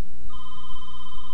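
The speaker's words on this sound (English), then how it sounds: "That's the phone ringing right then." A telephone rings with a steady electronic tone that starts partway in and holds loud and continuous, close by in a room with no voices.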